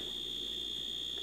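A Dash egg cooker's buzzer, muffled after a quieting fix, gives a steady continuous high-pitched tone that holds unbroken through the whole short stretch, moderately loud and alone.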